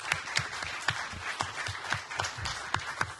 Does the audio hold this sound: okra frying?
no